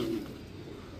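Pigeons kept by a breeder give a single short, soft coo at the start, followed by quiet ambient hush.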